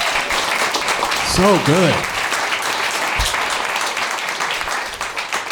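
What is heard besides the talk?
audience applause for themselves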